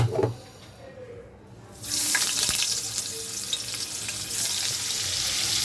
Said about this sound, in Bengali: এবার আমি সব পনিরগুলি এটার মধ্যে দিয়ে ভেজে নেব।